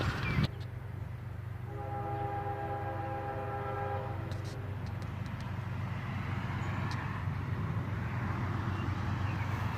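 A northbound CSX tanker train with a single locomotive sounds a sustained, fairly distant horn blast lasting a few seconds over a steady rolling rumble that continues alone afterward.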